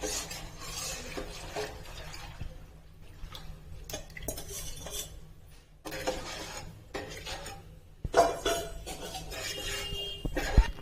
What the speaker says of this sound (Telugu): ఇలా రాగి పాలను వేసిన తర్వాత కంటిన్యూగా కలుపుతూనే ఉండాలి.